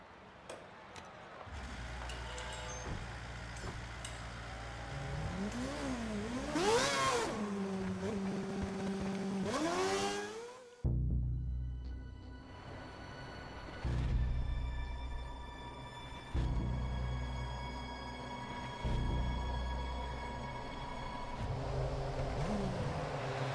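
Formula 1 cars in an F1 video game rev and accelerate as they head to the grid, engine notes rising and falling with a sharp cut partway and a steady idle hum afterwards.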